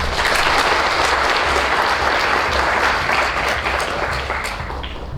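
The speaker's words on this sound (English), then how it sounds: "May we give them a clap." An audience claps steadily and loudly at an autism awareness walk in Zambia, a dense continuous wash of applause that fades slightly toward the end.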